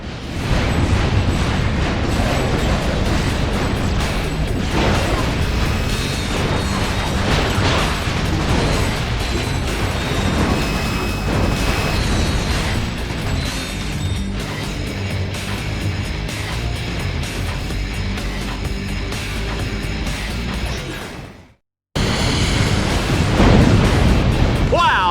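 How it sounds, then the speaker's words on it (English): A long, continuous roar of explosions and mechanical rumbling from a giant drill exploding in Ratchet: Deadlocked, loud and dense, cuts to silence briefly before resuming at full intensity. "That giant exploding drill was neat!"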